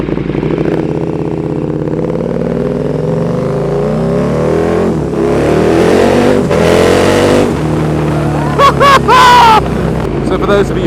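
A KTM 1290 Super Duke R, a 1300cc twin, rumbles close and loud through its exhaust at a deep steady idle. Revs rise midway, then come a few sharp blips, with a voice speaking over it.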